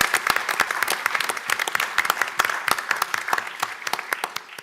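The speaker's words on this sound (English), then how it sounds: "Let's give the young people from Fort Wright another round of applause." A school board meeting audience applauds young people from Fort Wright, a dense run of sharp individual claps from a modest indoor crowd, fairly close and steady for several seconds with no talking over it.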